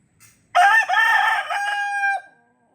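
A rooster crows once, loud and close, a long drawn-out call lasting well over a second before it trails off.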